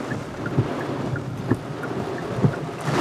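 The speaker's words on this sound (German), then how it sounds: "der Wind geht und geht und geht" Low, rumbling gusts of hurricane-remnant wind buffet the microphone on a US road trip, with a few stronger thumps roughly every second against a constant blustery roar.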